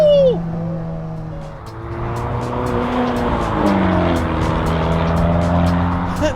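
A 2015 Alfa Romeo 4C's turbocharged engine accelerates hard in dynamic mode, its tone climbing through gears with a shift dip partway, and sharp turbo whooshes and flutters ring out repeatedly above the engine near the end.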